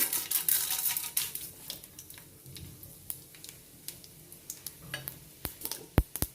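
Mustard seeds and urad dal crackle in three tablespoons of hot oil on a stove, a steady close sizzle broken by sharp irregular pops and ticks, with no voices.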